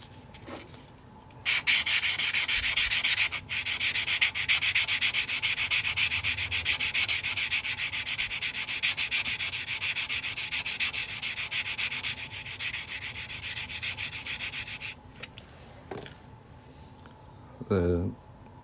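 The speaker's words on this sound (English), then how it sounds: "The center punch sometimes has some sharp edges, so I was just sanding those down real quick." Steady, close rubbing and scraping of sanding sharp edges off a metal center punch, continuous for several seconds before stopping, with a brief final scrape.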